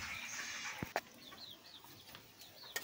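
Farmyard chickens cluck in short scattered calls at a farm in the countryside, fairly close but soft, with a few sharp knocks and thumps breaking through the background.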